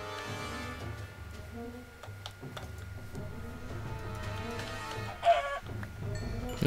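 Bird calls from a poultry animal in a survival video game, short clucking or quacking bursts repeated over a dense game music and ambient bed, moderately loud throughout.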